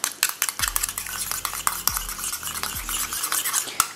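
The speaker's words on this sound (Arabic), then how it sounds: "غادي نحرك مزيان مزيان" Homemade hair gel being stirred in a pan, a utensil scraping and clinking against the metal in quick repeated strokes with a few low knocks, close and fairly loud, no voices.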